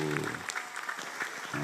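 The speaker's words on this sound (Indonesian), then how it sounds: "tepuk tangan, tepuk tangan." At a Qur'an recitation event, a small audience gives brief, light clapping, fairly faint with a voice talking over it.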